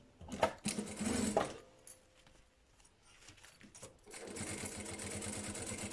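A sewing machine stitches grosgrain bias binding onto a fabric pencil case. Short whirring bursts at the start give way to a steady, continuous hum of stitching.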